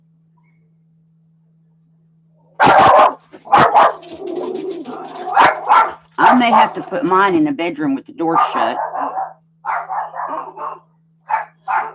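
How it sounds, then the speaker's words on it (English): A dog barks a couple of times near the start, then a person talks over quieter background noise. "I don't know what the dog is barking at."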